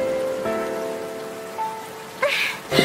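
Steady rain falls in a Final Fantasy 13 game scene, a continuous hiss that swells louder near the end, with faint tonal music lines drifting underneath and no talking.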